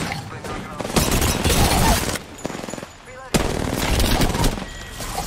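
Rapid automatic gunfire in the Apex Legends battle royale game rattles in long dense bursts with short gaps between them, loud and close, while players talk over it.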